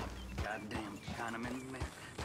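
Horse hooves clip-clop in Red Dead Redemption 2, an irregular run of soft thuds under steady game ambience and someone talking over it.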